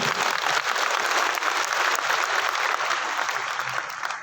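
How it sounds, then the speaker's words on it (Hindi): A crowd at a business motivational meeting in Patna claps together on request, a sustained, even round of applause with a rough, busy texture, fairly loud and close, gradually easing toward the end. "कुछ आपसे तालियां तो सुन लूं"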